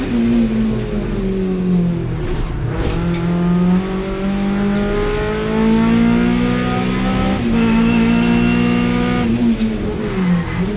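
Hot hatch race car competing in a 750 Motor Club race at Silverstone, its engine heard loud and close from inside the car, holding steady revs with rising and falling pitch through gear changes for the whole stretch.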